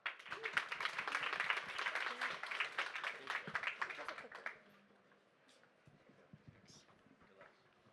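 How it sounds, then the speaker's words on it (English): A crowd at a startup demo day claps for about four and a half seconds, dense and fairly near, then the applause falls away to a quiet room with a few scattered sounds. "Let's give it a round of applause for CodeHive"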